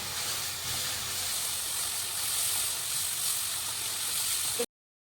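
Onion, ginger and green chili frying in a hot tempering for potato kachori filling, giving a steady, loud, close sizzle and hiss that runs unbroken and then cuts off abruptly.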